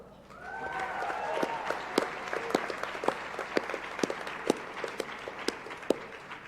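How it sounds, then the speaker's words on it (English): Audience at a high school senior awards ceremony gives award recipients a round of applause, a moderate, spread-out clapping that swells in, with distinct sharp individual claps standing out near the front. "Please give them all one more round of applause"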